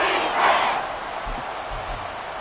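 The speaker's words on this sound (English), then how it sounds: "This crowd turning up the decibel level" A football video game's stadium crowd gives a broad roar that swells briefly near the start and then settles into a steady wash, with a few low thumps underneath.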